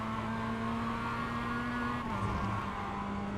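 A Mazda MX-5 Cup race car holds full throttle out of a corner at VIR, its engine a steady, loud, buzzing drone heard from inside the cockpit, with a brief dip in pitch partway through as it shifts.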